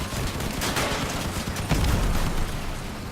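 Shotgun blasts from vehicle combat in the video game Crossout sound as dense booming bursts over a constant roar of engines and battle noise, with one heavier thump standing out partway through.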